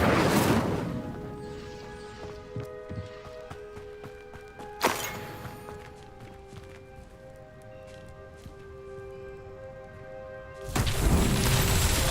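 The Incendio fire spell is cast in the Hogwarts Legacy video game. Loud whooshing blasts burst out at the start, in the middle and at the end over sustained tonal game music.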